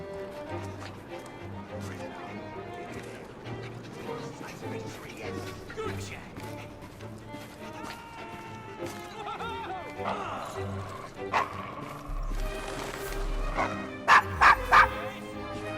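Dog barks, yips and whimpers at a stranger in Assassin's Creed Syndicate, repeated close barking mixed with game ambience and talk, ending in a burst of three loud barks.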